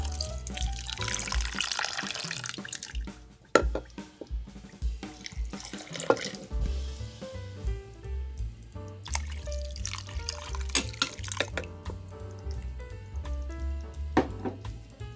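Water pours and splashes into a crock pot in uneven bursts, with trickling and dripping between pours, close by and without speech.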